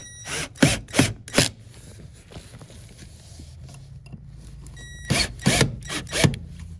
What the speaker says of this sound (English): we'll tighten those down the rest of the way with the drill